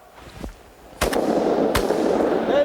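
Shotgun shots fired at clay targets during a shooting event at Remington Farms: two sharp, loud blasts about three-quarters of a second apart, preceded by a faint distant pop, over outdoor ambient noise.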